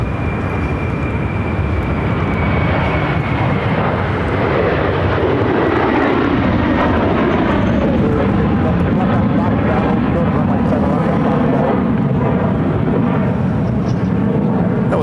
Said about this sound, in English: That was American Airlines flight 2671 headed to San Jose del Cabo on an A321.